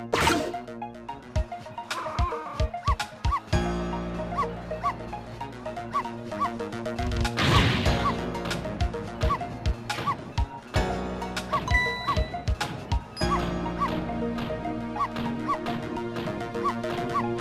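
Missile, the small dog in the video game Ghost Trick, gives repeated sharp barks and yips in quick bursts, mixed in with busy, tonal game music.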